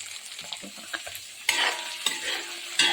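Garlic, onion and green chilli frying in a pan, with a few spoon scrapes and taps at first, then bursts of loud sizzling as the mix is stirred, close up and without speech.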